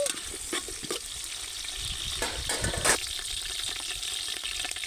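Chopped onions fry in a large pot for dum biryani, a soft steady sizzle with occasional stirring scrapes and clinks, heard close and fairly quiet with no talk.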